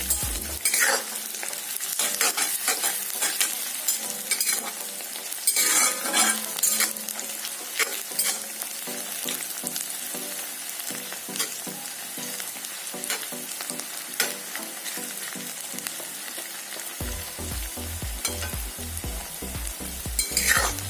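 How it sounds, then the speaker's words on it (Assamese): Onions fry over a low flame and are stirred repeatedly in a pan, giving a close, steady sizzle with scraping strokes and light utensil clatter throughout, with no talking. "কম জুইত পিঁয়াজখিনি লৰাই"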